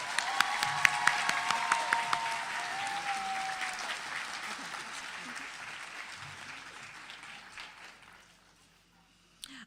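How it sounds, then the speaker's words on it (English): Audience applause for graduates of an adult literacy and workforce education program, with dense clapping and a few sharp close claps and cheers that gradually fade to near silence. "Let's have another applause for all of our graduates."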